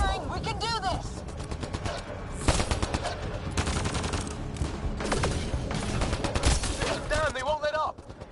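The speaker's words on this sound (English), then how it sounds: "Just keep firing, we can do this!" Sustained rapid gunfire crackles through a firefight in the sci-fi shooter Mass Effect: Andromeda, loud bursts overlapping with shouted voices and occasional heavier impacts.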